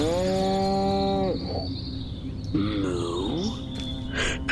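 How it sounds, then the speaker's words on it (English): A cow moos twice in a video game demo, a long low harmonic call up front and a shorter one near the end, both loud and close over steady background game sound. "Moo. Primitive, yet profound."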